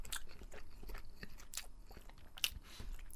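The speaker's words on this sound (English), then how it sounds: "the skins, Hastings, excuse me, are really quite crunchy" Close, quiet crunching as crunchy herb-flecked potato skins with lemony zest are bitten and chewed, irregular crisp snaps over soft chewing, with one sharper crack near the end and no talk.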